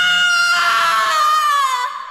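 A single sharp, high-pitched scream of pain, loud and close, holding for about two seconds before tapering off, with no other sounds around it.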